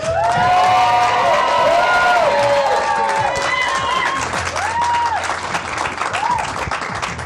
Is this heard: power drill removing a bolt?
no